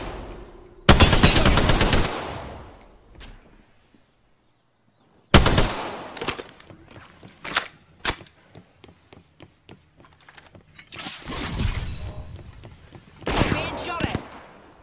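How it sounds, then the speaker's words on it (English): Gunfire in the battle royale game Apex Legends: loud sustained automatic bursts, a pause, then scattered single shots and rapid volleys close by, with some speech mixed in. "Being shot at."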